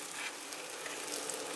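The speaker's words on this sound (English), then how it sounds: "Nice little sizzle." Grouse pieces hitting a hot pan give a bright, steady, close sizzle that crackles evenly for a moment, with no other sounds around it.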